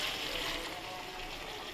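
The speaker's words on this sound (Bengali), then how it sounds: "এই জলটাও দিয়ে দেবো, মিক্সার মেশিনে ধোয়া জলটা" Rinse water from a mixer jar pours steadily into a pot of mutton curry, a continuous close splashing hiss that stays even from start to finish with no voices.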